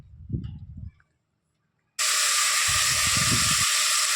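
Onion, tomato, potato, beans and carrot hit hot oil for soybean pulao, bursting into a loud, steady sizzle and hiss that runs unbroken for the last two seconds, with low stirring clatter beneath it.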